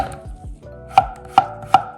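A Miyabi Birchwood chef's knife chopping quickly on a cutting board, a few soft cuts followed by three sharp, evenly spaced knocks of the blade hitting the board, close and clear.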